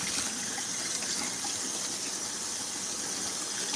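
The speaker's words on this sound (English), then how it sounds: "I'm just rinsing off that salt" Tap water runs steadily over a ham steak as salt is rinsed off, a continuous close hiss and gush with no talk.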